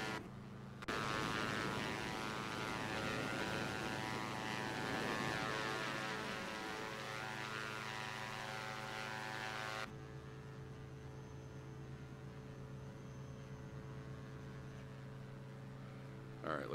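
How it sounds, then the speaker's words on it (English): Simulated Diamond DA-62 twin propeller plane taking off in X-Plane 11, a loud steady engine drone with rising propeller tone that drops to a quieter cabin hum partway through, heard alone without talk. "let me get this plane in the air"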